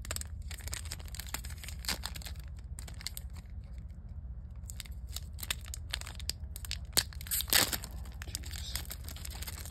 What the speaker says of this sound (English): I'm going to need the scissors for this.